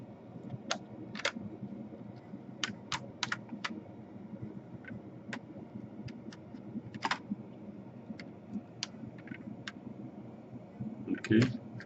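A sharp tool pries at the tabs holding a Lenovo G560 laptop keyboard, producing scattered faint clicks and plastic snaps with uneven spacing, and a louder clatter near the end, all over a quiet room background.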